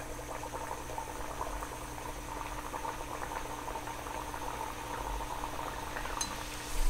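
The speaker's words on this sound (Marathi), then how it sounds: "आता इथे तेल व्यवस्थित तापलेलं आहे. आता मी ही पुरी त्याच्यात सोडणार आहे." Sweet pumpkin puri deep frying in hot oil, a steady bubbling sizzle that stays even throughout, fairly soft and close with no talk.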